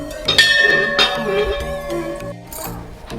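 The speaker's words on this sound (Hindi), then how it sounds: "घंटी पकड़" Metal temple bell rung during a Bhairav puja at a temple, several bright ringing strikes in quick, uneven succession, each leaving a shimmering decay, heard close and alone.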